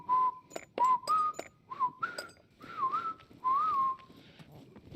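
Person whistling Pirahã words to show their tones: short melodic whistled phrases with rising and falling pitch glides, separated by brief pauses, close and clear with no talk over them.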